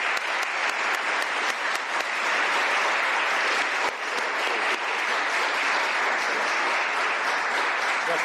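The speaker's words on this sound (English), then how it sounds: "Please give her a round of applause" At a bill signing, an indoor audience gives State Senator Claire Wilson a steady burst of applause, dense and loud clapping that holds for several seconds without a break.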